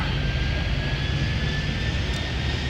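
Steady jet engine roar of an airliner at JFK airport in the video game Airport Madness 3D, a constant loud whine-tinged drone with a sustained high tone, alone without voices.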